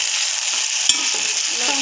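Chilli chicken sizzles steadily in a hot pan, a constant close frying hiss broken by a sharp clink and the light scrape of stirring.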